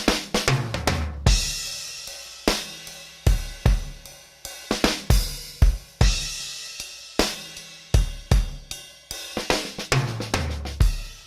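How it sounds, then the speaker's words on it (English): A drum kit plays a loose, varied pattern of punchy kicks, snare hits and crashing cymbals, dry and close, with no other instruments. "there's a variety of cymbals and drums played in different styles"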